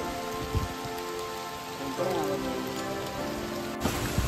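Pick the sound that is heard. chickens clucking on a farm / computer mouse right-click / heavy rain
heavy rain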